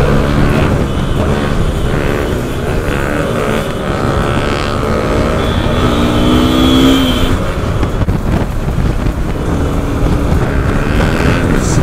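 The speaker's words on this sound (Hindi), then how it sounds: "बहुत बहुत ही बॉम आवाज है इसके एग्जॉस्ट" Motorcycle, apparently a Yamaha R15 V4 or 2022 Bajaj RS200, fitted with a loud aftermarket exhaust, roars and revs continuously close by with a dense rumbling tone and a brief rising pitch sweep midway, no talk.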